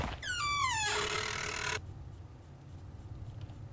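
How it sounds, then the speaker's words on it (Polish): A door creaks open with a long, high, rising squeal lasting under two seconds, then stops abruptly, leaving a quiet room with faint background hum. "Kto mi otwarł drzwi?"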